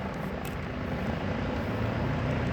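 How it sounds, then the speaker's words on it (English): A helicopter passes overhead on a day of repeated flights after damage in the area, its steady broadband rotor and engine roar filling the clip without a break, fairly loud and close, with no talking. "here comes the helicopter"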